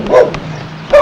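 A big dog gives two loud, close barks about a second apart, with a short quiet gap between them.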